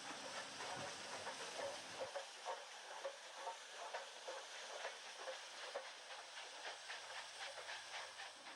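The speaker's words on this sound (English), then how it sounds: "That same drag freight we saw earlier is slowly making its way around the back alleys" An HO scale model freight train runs slowly around a Pacific Northwest layout, giving a soft continuous hiss with faint, regular clicking of wheels over track joints, fairly quiet and without speech.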